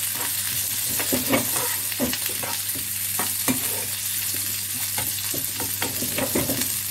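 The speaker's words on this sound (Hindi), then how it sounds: "अनियन सॉटे करेंगे हम लोग।" Medium-sized onions sauté in a pan, giving a constant close sizzle with frequent scraping stirs and light clinks of a utensil against the pan throughout.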